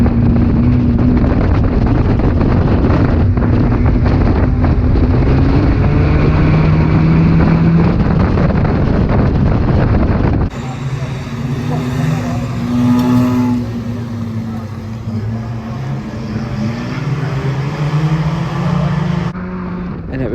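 Race cars roar around the wet Cowdenbeath Racewall track, a loud continuous engine drone with shifting revs, wind buffeting and spray, then a change to a rougher, more distant engine sound.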